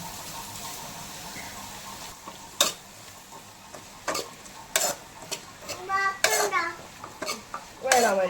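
Mustard seeds crackle in hot oil in a home kitchen while a native kovakka and beetroot thoran is made, giving sharp scattered pops and spits over a low background hiss, with a few louder bursts toward the end.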